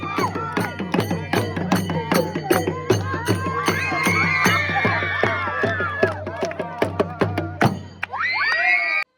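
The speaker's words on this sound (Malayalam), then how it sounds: "ആരവാണ് കാണുന്നത്." A crowd at the Kozhikode district school arts festival, during a folk song competition, keeps up loud rhythmic clapping, then breaks into a burst of cheering and shouting near the end.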